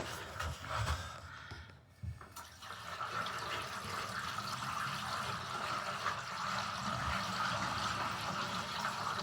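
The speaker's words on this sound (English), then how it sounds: "pour it down the drain while we monitor for leaks" Water poured down the drain of a newly fitted shower tray during an en suite bathroom refurbishment, a steady rushing, gurgling flow that starts after a brief lull and continues evenly and fairly close.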